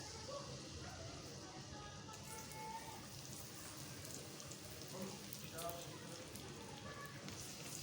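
Onions frying in hot cooking oil in a pan give off a steady, faint sizzle with soft crackles, continuous throughout and without talk.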